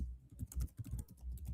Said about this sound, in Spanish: Se escucha el teclado.